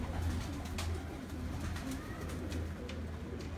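Pigeons in a Sialkot loft coo softly and steadily in the near background, a faint, continuous murmur of low calls without talk.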